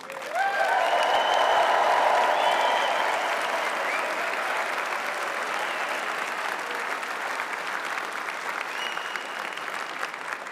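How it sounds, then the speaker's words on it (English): A graduation ceremony audience claps and cheers loudly, a dense sustained burst of applause with whoops that peaks early and then settles into steady clapping for the rest of the stretch. "Could you give them a big cheer, please?"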